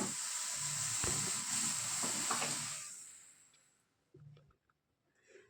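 Beetroot malpua mixture on a gas stove, bubbling and hissing steadily before the flame is cut and the sound fades into a few faint kitchen knocks.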